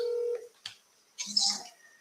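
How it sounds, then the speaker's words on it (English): Telephone dialing while placing a call, with a steady tone and then a quick burst of short dialing or keypad tones, close and moderately loud, with no voices. "Let's give them a call for this one that I was interested in"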